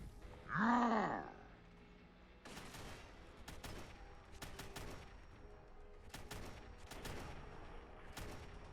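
Gunfire in the Fallout 4 game with the Beyond The Borders mod: a loud groaning vocal burst opens, then a run of sharp, fairly close shots crack in irregular bursts over steady background noise.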